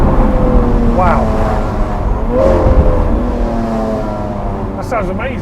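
A supercar at a showroom revs hard, its loud raw exhaust roaring and rising in pitch through several throttle blips, close by, with people talking over it.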